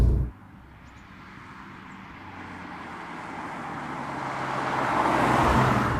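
Porsche 718 Cayman GTS 4.0L driving in town, heard from inside as a steady low engine and road drone that swells slightly toward the end, with no talking.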